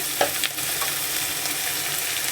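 Watermelon rind pieces frying in very hot oil with onion and green chili, producing a steady, close hiss of sizzling with a few brief stirring clinks near the start.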